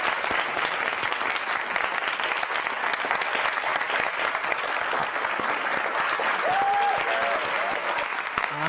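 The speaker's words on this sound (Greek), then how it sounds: "Θέλω ένα δυνατό χειροκρότημα να τον εμψυχώσουμε" A wedding crowd gives a loud, sustained round of clapping to encourage the next speaker, Richard, before his toast; the dense applause runs without pause, with a brief tonal squeak near the end.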